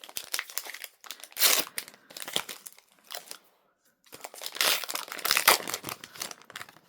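Foil wrapper of a Topps Turbo Attax 2025 card pack being torn open and crumpled up close, in irregular crinkling bursts with a short quiet gap in the middle.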